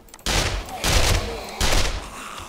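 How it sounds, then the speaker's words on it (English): Explosive blasts boom in 7 Days to Die, three loud bursts about three-quarters of a second apart, each with a rough rumbling tail, close and dominant. "they obviously woke up and hit a landmine."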